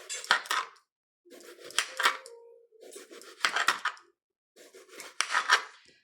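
A knife slices through aubergine on a board in a home kitchen, four separate cutting strokes each ending in a knock on the board, close and crisp with short pauses between.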